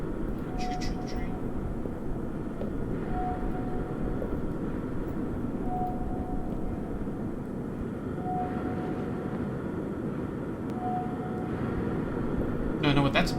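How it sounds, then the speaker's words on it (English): Video game train sound effect, a continuous rumbling rolling drone with a faint tone repeating every few seconds, steady and moderately loud, with talking over it. "Choo-choo train."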